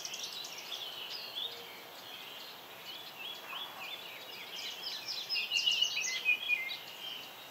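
Several warblers sing together high in the treetops, their thin overlapping phrases trilling and chirping at a moderate distance, building slightly louder near the end.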